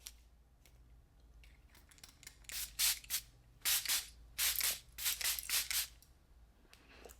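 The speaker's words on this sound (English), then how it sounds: "So I guess I'll spray it on my face." A series of short hissing bursts of facial mist spray, close and fairly loud, come in irregular clusters with brief pauses between them.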